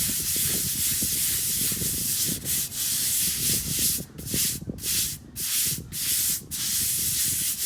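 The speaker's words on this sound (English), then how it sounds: "The better you scrub, the better the oil's gonna come out." A stiff brush scrubs OxiClean into an oil stain on a concrete driveway, a loud, close, continuous rasping scrub broken by short rhythmic strokes and brief pauses.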